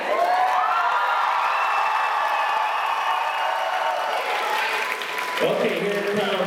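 A school talent show audience cheers and claps loudly for contestants, a sustained roar of whoops and applause with voices mixed in, shifting as music begins near the end.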